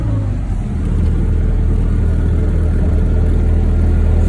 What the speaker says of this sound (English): Tree service guys dumping trucks.